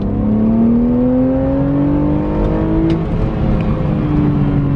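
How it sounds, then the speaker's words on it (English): A BMW Z4 with a naturally aspirated 3-liter inline-six making 225 horsepower, on its stock exhaust, revs loudly and close, the engine note climbing steadily, holding, then easing back. "We've got a 3-liter inline six, naturally aspirated, 225 horsepower engine, and it sounds good"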